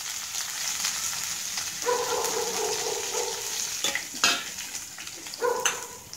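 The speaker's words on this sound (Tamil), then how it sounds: "இப்போ நம்ம இந்த வெங்காயம் பச்சை மிளகாய் இஞ்சி கருவேப்பிலை ஆட் பண்ணுறோம்" Onion, green chilli, ginger and curry leaves sauté in a pan for aval upma, a steady sizzle with a few clinks and scrapes of stirring layered over it.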